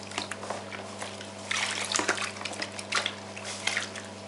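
Water drips and trickles during a guinea pig's bath: scattered close splashes and dribbles, busier in the middle, with no talking.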